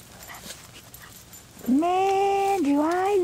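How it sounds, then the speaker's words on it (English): A dog whimpers and yips in a home during a family Christmas gathering: a long, high, wavering whine rising and dipping, loud and close, after a quieter stretch of faint room murmur. "Ling, are you being a dog?"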